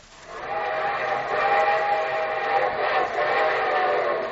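A train whistle sounds over the steady rumble of a rolling train, sustained for several seconds and fairly loud, with no voices.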